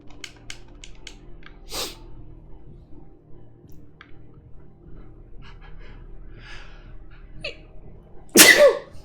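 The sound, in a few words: sneeze in the video game Mouthwashing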